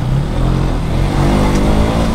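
A school bus drives past at a petrol pump, a loud, close engine rumble that swells slightly as it goes by.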